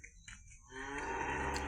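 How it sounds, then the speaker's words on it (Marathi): A cow in an open cattle shed gives a single long, low moo that swells and holds to the end after a few faint background sounds. "बघा इकडं मुक्त गोठ्यामध्ये गाय आहे."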